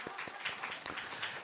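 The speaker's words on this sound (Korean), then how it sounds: "누군가 맞췄을 거라 생각하고 박수 한번 치겠습니다" Scattered clapping from a church congregation during a Christmas service, a loose crowd of hands patting unevenly for a brief moment, moderately distant with room echo.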